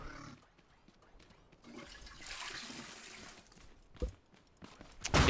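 A toilet flushes in the survival building game Scrap Mechanic, a rushing, swirling water surge that swells and fades over several seconds, ending with a couple of sharp clunks, heard alone with no talking.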